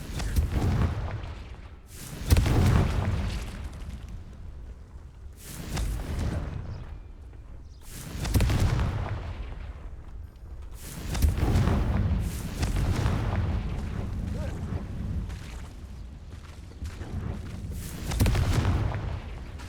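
Confringo blasting spells from Hogwarts Legacy erupt over and over, six or seven booming bursts spaced a few seconds apart, each one heavy and resonant and trailing off before the next, with no voices over them.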